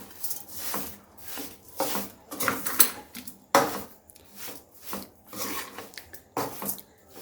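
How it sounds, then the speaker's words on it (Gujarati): A spoon mixes sugar into bottle gourd halwa in a pan, making rhythmic scraping and rubbing strokes about once a second, close and moderately loud. "હવે આપણે આને મિક્સ કરી લઈશું"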